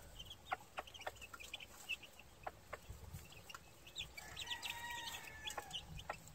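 Hatch Grey cross gamefowl chicks peep in quick, sharp bursts around an old gray hen, with soft clucks and scattered chirps close by, faint and busy with no talking.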